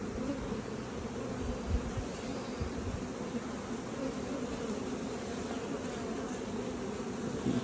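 Honey bees around an opened, crowded hive make a dense, steady buzzing drone close by, with many wings humming together and no speech.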